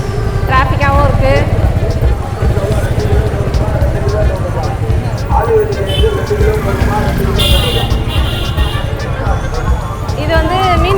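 Road traffic near the Vanagaram fish market on a hot, busy festival-season day rumbles steadily at close range, with engines, horns and crowd chatter blending into a loud, constant din.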